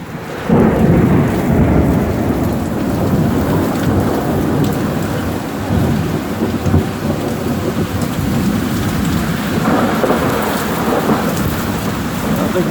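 Heavy rain pours steadily during a summer hailstorm in Central Florida, with deep rolling thunder rumbling underneath. Dense and loud throughout, with no voices.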